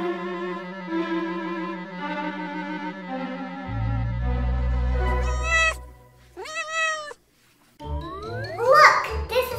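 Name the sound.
cat meowing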